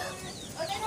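A rooster gives a few faint, brief clucks in a quiet outdoor setting, with soft background noise and no clear talk.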